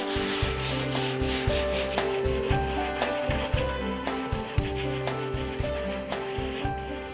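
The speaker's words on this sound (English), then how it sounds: "I'll be using an 80 grit piece of sandpaper and start sanding to create a nice industrial finish." A metal drum being hand-sanded with 80 grit sandpaper, loud close rhythmic scraping strokes repeating about once a second, with a faint steady background tone and no speech.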